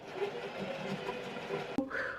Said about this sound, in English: It's so hard to sew on such a silky fabric.